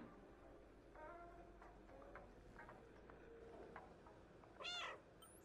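A cat meows in the video game Stray. Faint ticks and small chirps give way to one short, clear meow near the end, over a quiet background with no talking.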